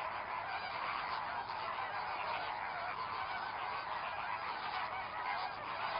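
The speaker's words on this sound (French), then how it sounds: "chacun reconnaît son poussin par le cri et ne nourrit que lui" A dense colony of flamingos calls together without pause, a busy wall of honking, goose-like cries, near and loud.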